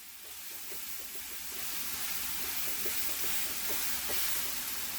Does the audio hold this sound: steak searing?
yes